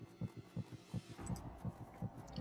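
A heartbeat pounds in the ears as a low, muffled, steady throb, about three soft thumps per second, repeating evenly without any voices.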